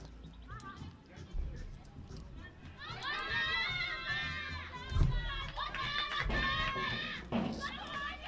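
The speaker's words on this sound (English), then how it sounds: "You can hear the cheer out from the dugout there from Malawian side" Malawi players cheer from the dugout during a women's under-19 T20 cricket qualifier against Rwanda, with bursts of high excited voices and shouts rising over steady crowd murmur and nearby talk.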